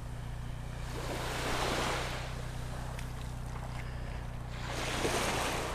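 Ocean waves wash onto a North Naples, Florida beach, swelling in two soft surges over a steady background rumble, with some wind on the microphone.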